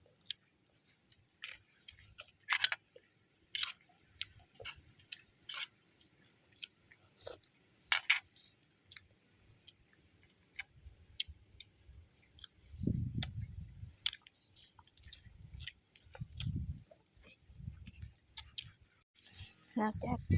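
Close, soft chewing and crunching during a breakfast of rice with cassia leaf curry cooked with pork bones and egg, with scattered sharp clicks and a few low bumps.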